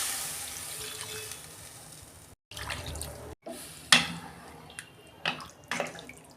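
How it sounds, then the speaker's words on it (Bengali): Water poured into a pan of sautéed potato and cauliflower in a home kitchen, a soft steady splashing trickle broken by brief gaps and a few sharp clinks and sputters, close and fairly quiet. "আমি জল দিয়ে দিচ্ছি।"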